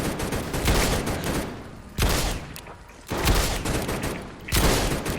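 A magnum firing slowly in the Roblox game Anomalous Activities: four loud, heavy shots spaced about a second apart, each with a booming low thump and a ringing tail.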